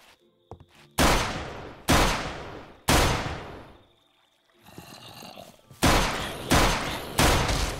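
Loud bursts of gunfire from a gun in the Minecraft video game during a zombie invasion, several sharp shots spaced about a second apart, with a short rustling pause between groups.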